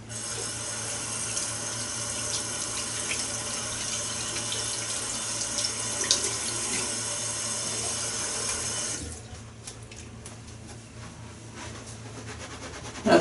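Tap water running into a sink to rinse a soapy shaving brush, a steady, loud hiss that shifts abruptly to a thinner, quieter splashing about two-thirds of the way through.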